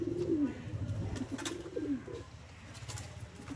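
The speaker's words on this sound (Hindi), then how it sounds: "नायाब तरीन हालत में दोस्तों सियालकोटी अली वाले कबूतर" Sialkoti pigeons cooing close by, soft repeated coos in a low rolling rhythm, with a little background noise and no talking.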